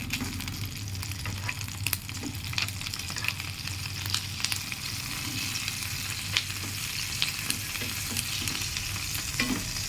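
Hilsa patori wrapped in banana leaves frying in a pan, a steady close sizzle with occasional crackles and light stirring scrapes throughout, no voices.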